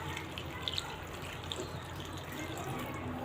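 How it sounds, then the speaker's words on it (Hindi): Water poured over sliced onions on a plate while preparing onion pakora, a soft steady trickle and splash heard close up and fairly faint, with no talking. "अब मैं इसके अंदर पानी ऐड कर दूंगी।"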